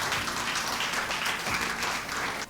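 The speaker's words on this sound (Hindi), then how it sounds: "निडर लोग ताली बजाते हैं" A church congregation claps and applauds during a sermon, producing steady, dense clapping that continues for a couple of seconds before cutting off.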